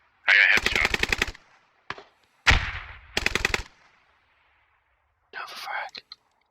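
Rapid automatic gunfire bursts from the military shooter game Squad, loud and close, in short strings separated by pauses, with a later softer burst; quick muttered voice over the action.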